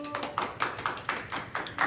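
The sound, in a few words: applause at a church youth service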